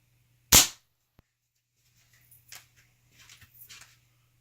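A single sharp crack from a Weihrauch HW97KT air rifle fires once, followed by faint scattered clicks and light handling noise in an otherwise quiet setting.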